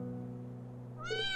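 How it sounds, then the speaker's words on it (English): A single short cat meow from the video game Trails of Cold Steel 3, bright and fairly close, rising suddenly at the end after a stretch of low sustained tones. "Kitty!"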